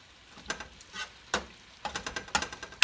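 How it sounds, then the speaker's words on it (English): Mongolian beef steak simmers and sizzles in a thickening sauce in a pan, a soft bubbling hiss broken by several sharp stirring clinks and scrapes. "let it simmer in the sauce"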